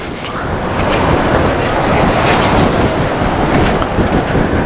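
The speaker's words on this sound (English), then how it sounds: "See the ocean." Ocean waves and surf rush steadily below an outdoor walkway outside the Belvedere Bar on the Norwegian Aqua cruise ship, mixed with strong wind buffeting the microphone, continuous and loud with no speech.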